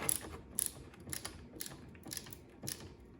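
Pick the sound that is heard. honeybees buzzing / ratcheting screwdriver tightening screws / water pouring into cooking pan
ratcheting screwdriver tightening screws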